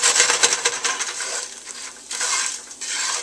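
Popcorn kernels scraped and stirred through dissolving sugar in a stovetop pan make close, rhythmic scratching and rattling strokes, with faint sizzling underneath and no talking.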